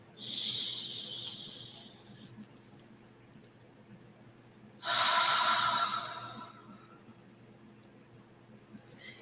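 A deep inhale drawn through the nose during guided breathing, a long airy rush heard close up, then a quieter pause before a second strong breath swells and fades against faint background hum.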